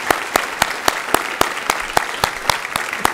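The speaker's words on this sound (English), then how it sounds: "Let's give them a round of applause as well." An audience at a student teacher recognition ceremony gives a brief round of applause, with sharp, evenly spaced claps that read as one or a few people clapping rather than a large crowd.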